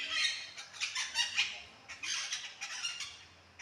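Parakeets perched in sal trees give repeated shrill, squawking calls in quick overlapping bursts, moderately faint and at some distance.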